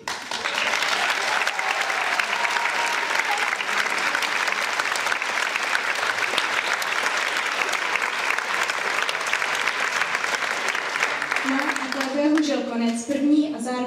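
After a school talent show, a hall audience applauds steadily and loudly for over ten seconds, the dense clapping fading near the end as a voice begins speaking.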